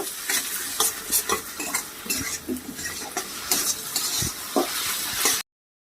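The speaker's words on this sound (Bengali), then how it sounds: "এরপরে দিয়ে দিচ্ছি আদা বাটা দিয়েও এটাকে খুব ভালোভাবে আমি নাড়াচাড়া করে নেব" Ginger paste fries in a pan while being stirred vigorously, with close scraping and clinking of a utensil over a constant loud sizzle, ending abruptly.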